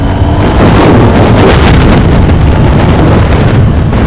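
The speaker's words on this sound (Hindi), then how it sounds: "ये जो इसका स्टॉक एग्जॉस्ट है ना, जब हम लोग रेस देते भगाते कितना मस्त साउंड आती है" A Kawasaki ZX10R with its stock exhaust roars while being ridden at speed, loud engine noise mixed with heavy wind buffeting the microphone, continuous and close.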